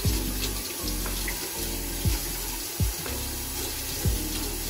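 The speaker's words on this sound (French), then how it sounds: "Vous ouvrez le robinet et vous le lavez." A sink tap runs water over a beret being washed by hand, a continuous close splashing gush broken by several soft thumps and bumps as the cap is handled under the stream.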